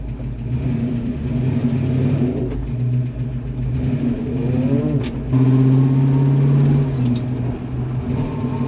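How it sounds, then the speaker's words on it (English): A car fitted with a new limited slip differential and 3.55 rear gears drives along, its engine rumbling and whirring steadily with rising and falling revs, heard from inside the cabin with no talking. "let's go for a drive."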